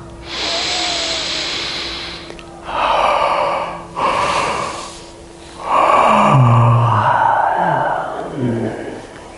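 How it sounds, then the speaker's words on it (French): A deep relaxed breath and a yawn during a guided relaxation session: loud, close airy inhales and exhales that swell into a drawn-out voiced sigh toward the end. "Laissez bailler tout de suite directement"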